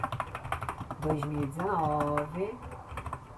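Clicky typing on a computer keyboard, with quick keystrokes heard at the start and end while someone speaks Portuguese over the middle.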